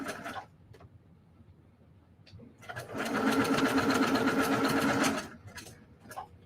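A sewing machine stitches over a straight seam in a quilt block, a burst of fast rhythmic whirring lasting about two seconds, preceded and followed by quieter handling noises and brief short taps.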